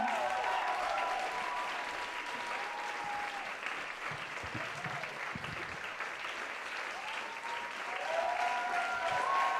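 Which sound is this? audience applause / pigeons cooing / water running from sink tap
audience applause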